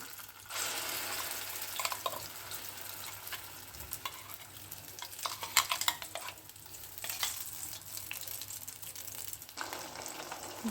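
Ground masala frying in oil for a Karnataka Brahmin mente soppu dish, with soft sizzling and intermittent stirring scrapes in a pan, fairly quiet and close, no talking.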